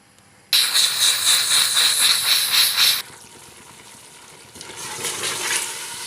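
A pressure cooker cooking meat lets out a loud, steady hiss of steam for a couple of seconds, cuts off abruptly, then a softer hiss resumes.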